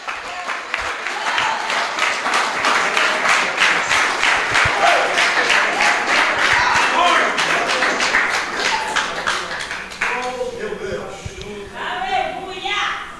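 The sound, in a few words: church congregation applauding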